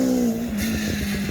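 A Mazda MX-5 running an autotest course laid out in a car park on the Isle of Wight, its engine a steady droning note held near and loud, with tyre noise and a slight shift midway.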